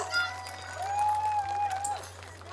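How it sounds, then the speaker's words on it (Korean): Audience at an outdoor market festival stage in Bansong-dong, Busan, applauding a performer, steady moderate clapping and crowd noise with a faint sustained tone over a low electrical hum. "수고해주신 유선 씨에게 다시 한번 큰 박수 부탁드립니다"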